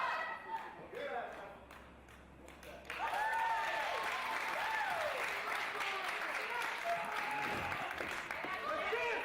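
A wrestling crowd at FSW Ground Zero 2021 before Sefa Fatu and Chris Bey lock up, with faint clapping at first, then loud cheering and whistles that surge in and stay at full volume, while a commentator talks over the start.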